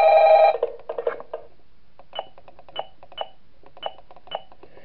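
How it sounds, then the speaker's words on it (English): A telephone rings in a Five Nights at Freddy's fan game, a loud opening burst followed by a run of short, evenly spaced electronic chirps on a quiet background. "we're getting a phone call on night 6?"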